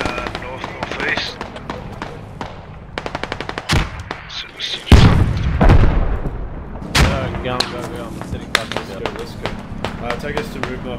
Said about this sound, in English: I'm taking shots from the north northeast.